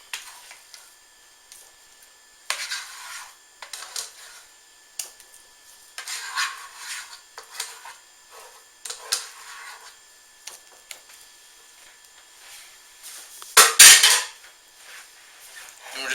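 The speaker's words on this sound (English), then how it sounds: "We're going to take some of these mashed potatoes, just set them off to the side, and then the rest of them is going in a casserole pan" A utensil scoops mashed potatoes into a casserole pan in soft, sporadic bursts of scraping and dull clinks, close by, with quiet gaps between and one sharp clatter near the end.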